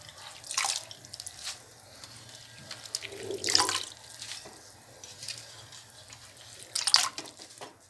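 Bursts of running tap water splash and gush three times, close by, while spinach is washed, with quieter dripping and handling between them.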